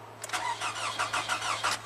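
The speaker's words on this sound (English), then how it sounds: "the engine doesn't sound too good when cranking" Toyota Camry engine cranking without starting, with a rapid rhythmic starter chug of about a dozen pulses over roughly two seconds, close and fairly loud, never catching into a run.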